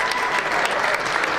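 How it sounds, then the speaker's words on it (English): Audience applause at the 32nd annual APPAC Unity Gala, a steady wash of clapping from a large room that holds evenly through the short moment with no pause. "Please give him a round of applause."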